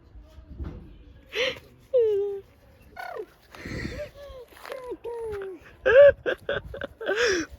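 Short clucking and warbling chicken calls come and go, fairly close, mixed with people talking and small vocal noises.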